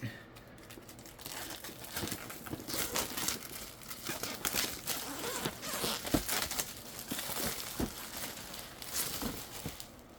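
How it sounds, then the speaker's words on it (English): Plastic wrap is torn and crinkled off an Evercade VS Atomic Edition console box, with dense, continuous close rustling and crackling and sharper snaps scattered throughout. "Let's unwrap this bastard."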